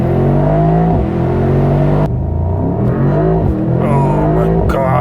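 A 2023 Mercedes-AMG SL63 launches hard from a standstill, its engine note climbing loud and close through rising revs, with a sharp upshift break after about two seconds and more climbing pulls with quick gear changes after.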